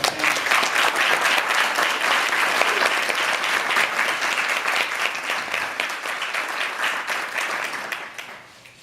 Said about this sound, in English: give them one more applause